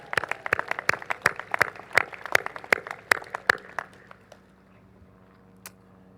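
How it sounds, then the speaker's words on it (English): A graduation commencement audience claps in a brief, fairly sparse round of distinct hand claps that thins out and fades to near silence after about four seconds. "So give yourselves an applause."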